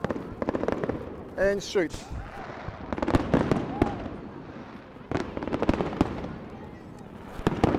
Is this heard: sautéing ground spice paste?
no